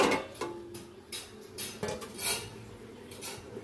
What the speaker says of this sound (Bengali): এটা আমি এখন একটু ঢাকা দিয়ে দিই।